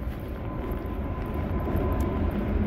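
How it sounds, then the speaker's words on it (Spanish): An airplane passes overhead above a residential street near Auteuil in Montréal, a steady low broadband rumble that holds level throughout and swells slightly toward the end, with no talk. "Oye, por ahí hay un avión detrás de mí."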